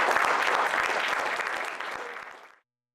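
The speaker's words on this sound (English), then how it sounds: "Announcement received applause from faculty across the room." Faculty across a room applauding an announcement, a full burst of clapping at steady strength that thins slightly and then stops abruptly.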